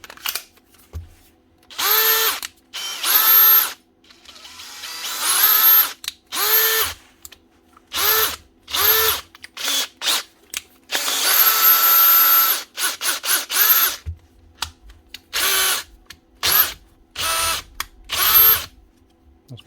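Bosch GSP 18V/60C brushless cordless drill with a faulty gear selector, running in repeated short bursts of whirring with brief pauses between, close and loud, plus a longer steady run near the middle.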